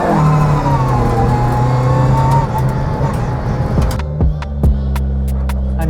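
A JDM family car's engine revs hard under load with gearbox whine and stones crunching beneath the tyres, a loud, steady drone that shifts pitch before easing off as the car slows, with a few sharp clicks near the end.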